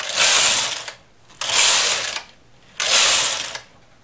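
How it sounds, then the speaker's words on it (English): Carriage of a domestic knitting machine swept back and forth across the needle bed, knitting rows of yarn over held needles for an English rib cloche hat: three loud, rasping mechanical passes, each about a second long, separated by short pauses. "Now I'm going to knit four rows, and it's going to just lay the yarn over these held needles."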